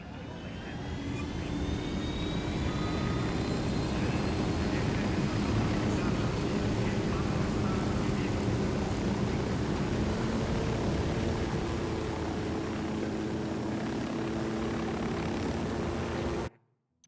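Aircraft engine in flight in the video game Ghost Recon Wildlands, a steady loud drone held for about sixteen seconds before cutting off abruptly.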